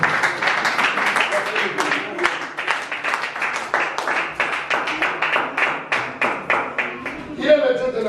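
A church congregation claps rapidly and steadily in praise of the Lord, dense continuous applause with voices faintly mixed in.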